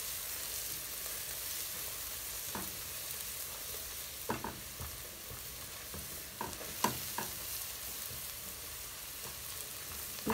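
Garlic fries and is stirred in a pan with broth, a faint steady sizzle broken by a few sharp scrapes and taps of the spoon against the pan.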